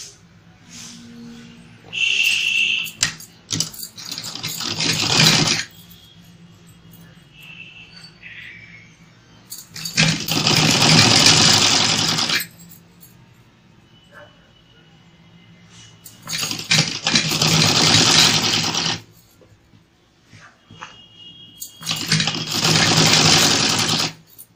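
Sewing machine stitching blouse sleeves, running in three long, loud bursts separated by quieter pauses with faint handling noises.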